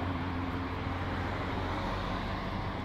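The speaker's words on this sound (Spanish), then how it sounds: "porque pasan autos rajados" Steady roadway rumble from cars speeding past a roadside bike path, a continuous broad low-heavy wash of traffic noise with no distinct single pass.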